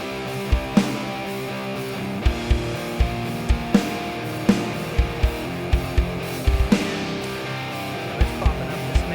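Electric guitar played through a simulated Mesa amp in Amplitube 5, a sustained distorted riff with rhythmic palm-muted chugs and regular accented hits, loud and alone with no talking.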